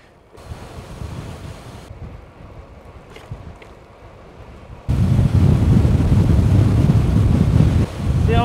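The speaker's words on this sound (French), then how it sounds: "impressionnant ce vent." Strong, cold wind roars across the microphone while cycling in the Morvan, a steady heavy rumble that jumps much louder partway through and keeps blowing hard.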